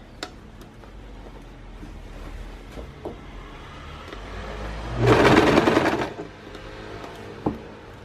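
A sewing machine stitching a seam, heard as a single quiet burst of about a second, with soft scattered ticks and clicks before and after.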